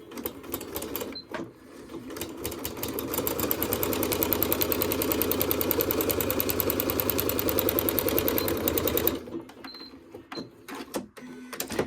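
A Janome Skyline S5 sewing machine runs a steady, even seam for several seconds through quilted fabric with batting. Quiet handling noises come before and after the run.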